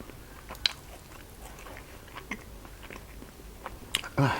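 Someone chews Thai khanom babin, a young-coconut dessert, close to the microphone, with soft bites and crunches scattered through the clip and a louder burst at the end. Quiet speech is heard at times.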